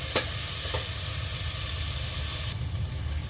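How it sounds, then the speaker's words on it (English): Onions sauté in a hot pan with a steady, close sizzle and hiss throughout and a brief stir near the start. "now let that saute"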